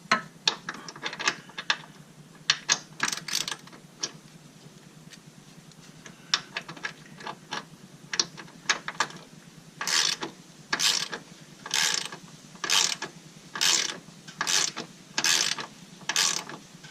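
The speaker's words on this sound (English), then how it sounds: "I can actually switch to the ratchet now too." Ratchet tightening bolts on rock sliders for a Jeep Wrangler JL: close, rapid pawl clicking in short bursts, then a steady run of even, evenly spaced strokes.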